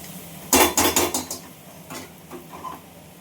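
A metal lid is set down onto a pan of cooking ivy gourd (kundru), giving a loud clatter followed by a few quick rattling knocks, then softer clinks as it settles.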